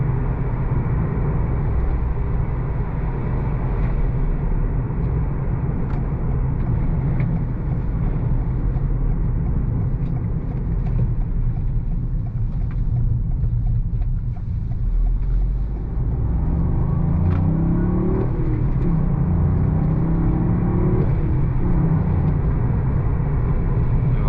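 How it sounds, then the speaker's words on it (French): A Toyota Yaris GR 1.6 with 261 horsepower and a track pack accelerates on an open road, heard from the cabin as a continuous loud engine and road rumble, with a faint dump-valve whoosh and rising tones near the end. "On entend légèrement la DEM valve."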